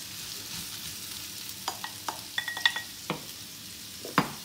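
Onions and sweet peppers fry in a pan for a liver dish, a steady soft sizzle broken by several sharp utensil scrapes and taps as the mix is stirred, close and moderately loud with no talking.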